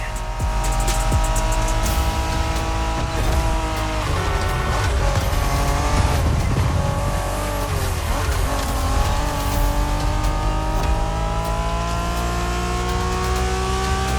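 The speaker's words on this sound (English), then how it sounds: "We're going for some proper Japanese street racing." Street race cars roar through a Japanese street race in The Crew Motorfest, engines revving hard and tires squealing, loud and continuous over a backing music bed for the whole stretch.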